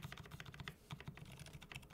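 Typing on a keyboard fitted with lubed, silent MX Zilent switches gives soft, muffled, rapid keystrokes in an uneven rhythm, quiet and close, with no talking.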